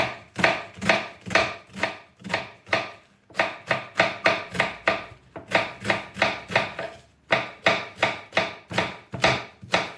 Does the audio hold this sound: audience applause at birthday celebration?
no